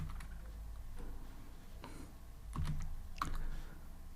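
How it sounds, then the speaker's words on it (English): Keys on a computer keyboard are typed quietly in a short, uneven run of soft taps, heard up close without any speech over them. "Now I will type here department."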